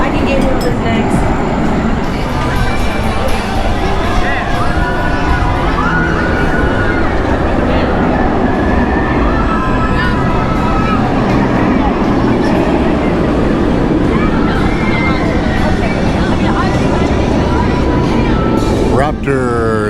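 A B&M inverted roller coaster, Raptor at Cedar Point, rumbles steadily along its track in a loud, continuous roar, with crowd noise and voices around it at the amusement park.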